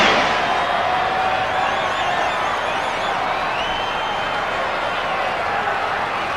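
A crowd of nearly 80,000 at Wembley Stadium applauds and cheers the Rugby League World Champions, a dense, continuous roar of clapping and voices.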